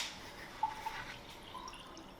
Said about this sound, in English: It's a good pour.